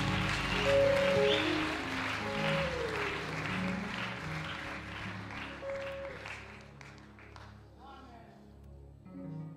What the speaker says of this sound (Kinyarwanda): Tumukomere amashyi tumushimire